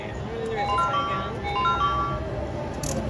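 A slot machine bonus wheel spinning, with bright melodic electronic chimes and tones stepping up and down over casino background noise while people talk.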